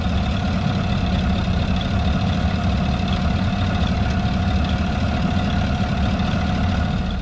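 A 2020 Chevrolet Colorado fitted with a V8 idles steadily up close, its deep engine rumble even and continuous with a faint mechanical ticking on top and no voices.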